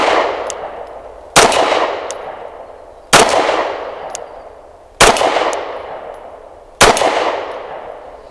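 Four sharp, loud pistol shots from a BUL Armory EDC fired at 7 yards, spaced roughly two seconds apart, each a hard crack followed by a long ringing decay, with a faint metallic clink between shots.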